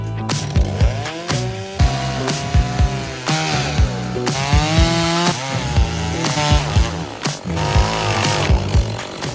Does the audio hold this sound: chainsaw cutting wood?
yes